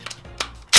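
A torque wrench on an SR20 engine rebuild, intake side, reaching its set torque: a few light, close mechanical ticks followed by one loud, sharp click.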